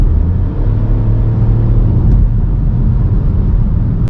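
Gasoline Mini Countryman engine drones loud and steady from inside the cabin, a continuous low rumble with its pitch gradually climbing as it revs, no voices over it.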